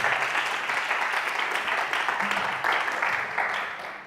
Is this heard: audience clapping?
yes